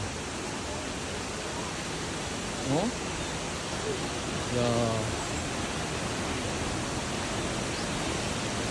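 Cheonjeyeon's first waterfall on Jeju, swollen by heavy rain, pours into its pool with a dense, steady rushing roar that fills the scene. Brief exclamations from nearby people break through once or twice.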